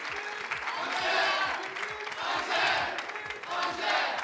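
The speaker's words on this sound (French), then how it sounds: "je vais demander de faire beaucoup d'applaudissements pour le livreur Au Calme qui nous rejoint" Studio audience on a Burkina Faso TV entertainment show clapping and cheering for a motorbike delivery man, the crowd noise swelling and easing in waves with shouts and whoops mixed in.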